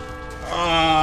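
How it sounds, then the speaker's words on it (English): Tolling church bell in a medieval city-building strategy game, a single resonant ringing strike that swells and sustains with a bright metallic hum. "Oh my god, the bell noise"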